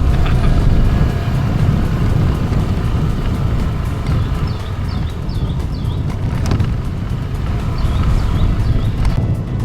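A motorcycle rides off-road near the Bakau nature camp, its engine a dense, steady low rumble that fills the whole stretch. Faint bird chirps come through above it partway along.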